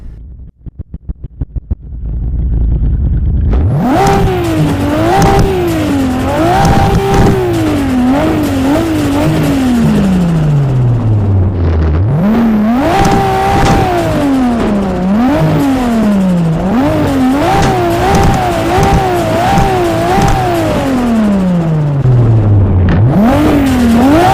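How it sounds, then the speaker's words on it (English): A Nissan Nismo R33 GT-R engine in Assetto Corsa revs hard and repeatedly, pitch sweeping up through gears then dropping, loud and continuous after a brief start. "I'm going to shut up for a second and do some revving"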